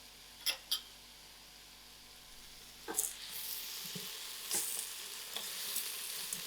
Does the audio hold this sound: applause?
no